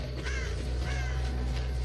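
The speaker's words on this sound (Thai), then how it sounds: "ข้างหน้ามีอีกาบิน" Crow cawing in the video game Dead by Daylight, a few clear repeated caws over a steady low background hum, moderately loud and with no voices.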